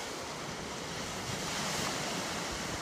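Pacific Ocean waves wash into a small bay with a steady broadband roar of surf, slightly swelling midway, mixed with wind buffeting the microphone, continuous and close.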